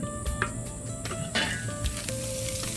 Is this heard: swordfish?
yes